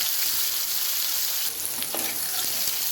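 Cabbage upperi stir-frying in a pan for a lunch box, a steady close hiss of sizzling with faint stirring scrapes and no voices.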